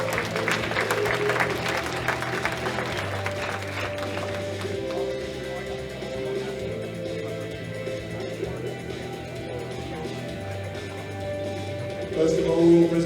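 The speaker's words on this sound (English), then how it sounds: "Give them a round of applause, please." Audience applause at a world sub-junior and junior powerlifting championship awards ceremony, a steady, dense clatter of many hands filling the hall, swelling louder near the end.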